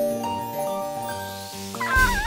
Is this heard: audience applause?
no